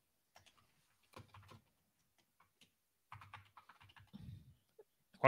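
Bursts of typing on a computer keyboard, clustered clicks arriving in short separate runs with pauses between them, close and fairly quiet, with no talk over it.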